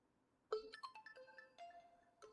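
Ringtone played through the speaker of an Oppo A6 phone, a short bright melodic sequence of tones that starts abruptly and rings clearly against near silence.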